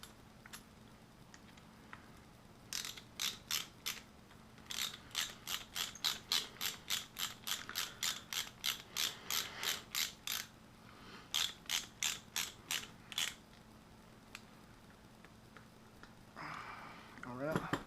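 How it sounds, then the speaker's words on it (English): A ratchet wrench clicks in quick, even bursts as a screw is driven back into motorcycle forward controls. The clicking is close and crisp, with pauses between runs of turns and a short rustle near the end. "Now we can put the screw back in."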